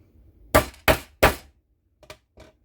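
Three sharp, loud hammer strikes drive a hole punch through a notebook cover, each blow ringing briefly, followed by two softer taps.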